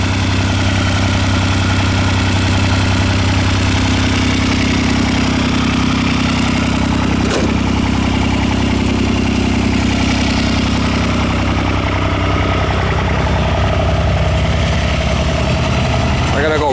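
A John Deere 430 diesel lawn tractor with a cozy cab idles after starting, a loud steady low rumble with a brief knock partway through and a slight change in tone near the end; someone talks over it.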